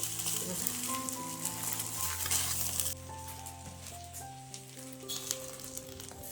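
Fish wrapped in banana leaves frying on a wood-fired clay stove, a soft continuous sizzle with faint crackling beneath sustained background music tones.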